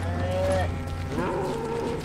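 A cow moos in the Western shooter game Call of Juarez: Gunslinger, a loud, close, low lowing call with a rising, wavering pitch, followed by a second shorter call over a steady background hum.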